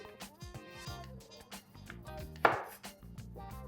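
A knife cuts through a raw potato on a board, trimming its corners and sides for fries, with a series of close, irregular chops and one sharper knock.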